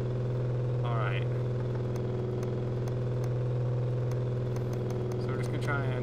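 A Maserati engine in Car Mechanic Simulator 2015 holds a loud, steady drone on a dyno, with brief rising whines near the start and end, constant and close throughout.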